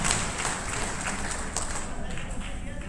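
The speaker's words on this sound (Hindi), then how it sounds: "एक बार जोरदार तालियां इनके लिए" An audience claps steadily through a business plan presentation at a success training seminar, with dense, continuous applause and murmuring voices mixed in.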